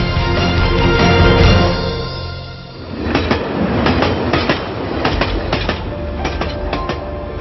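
A KTM railway train rolls past on the tracks, loud steady rumble followed by rhythmic clickety-clack of wheels over rail joints, close and continuous without voices.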